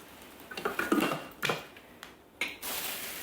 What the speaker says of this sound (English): And then we're going to pop the lid on.